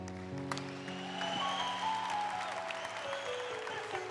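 A church congregation applauds in a steady, moderate wash of clapping under sustained music, fairly soft and spread through the room.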